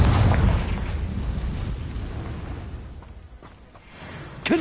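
A Confringo blasting spell explodes in Hogwarts Legacy: a loud, booming burst at the start that decays into a rumbling tail, then a sharp pop near the end.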